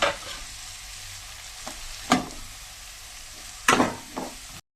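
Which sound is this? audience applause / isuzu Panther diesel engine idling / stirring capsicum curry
stirring capsicum curry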